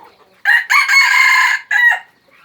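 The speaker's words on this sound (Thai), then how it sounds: "ไก่ตีนะครับ" A fighting rooster crows close by, a loud clear cock-a-doodle-doo in one drawn-out call with a short tail, set against near silence with no talk.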